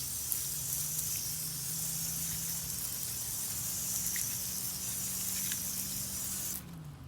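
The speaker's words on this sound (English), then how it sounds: "Get it set on stream." A spray bottle switched to its stream setting rinses a tire on a 2021 Chevrolet Trailblazer, giving a steady close hiss of liquid that holds for several seconds and stops abruptly near the end.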